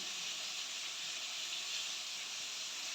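Constant bright hiss of flour-coated fish frying in oil, steady and even throughout with no talking.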